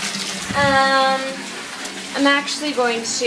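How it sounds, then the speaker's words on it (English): Water runs from a tap into a bathtub as it fills, a steady rushing wash under a person talking close by. "So as the bath fills up"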